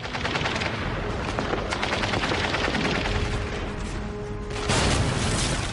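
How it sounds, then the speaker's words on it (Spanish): A fierce WWII firefight at Sainte-Mère-Église, Normandy, with dense, continuous rifle and machine-gun fire crackling in rapid bursts, and a heavier blast swelling near the end. "Se produjo un feroz tiroteo."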